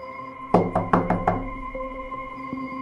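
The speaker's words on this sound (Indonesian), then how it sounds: "ucap Darsono sambil mengetuk pintu rumah Lulu" Knuckles rap on the door of a large house, five quick hollow knocks close up in a rapid burst, over a steady humming background.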